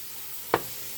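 Fresh cut tomatoes cooking in a pot for gumbo give a single short sizzling stir burst that stands alone against a quiet background.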